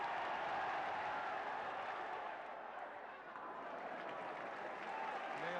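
A Welsh football crowd at a Wales v England Home Championship match in 1982 roars and applauds in a broad, steady wash of noise, with a commentator talking over it.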